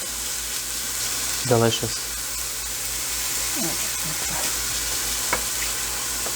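Eggs fry in butter in a pan with a steady, soft sizzle that runs throughout, and a voice speaks briefly over it.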